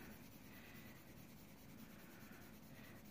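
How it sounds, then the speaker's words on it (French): A pencil colours in with small circular strokes on paper, a steady close scratchy rubbing that continues without pause and without speech. "je colorie à l'intérieur en faisant des ronds"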